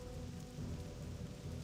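Steady rain pours in the World of Warcraft video game, a brief, even patter over a soft tonal background hum.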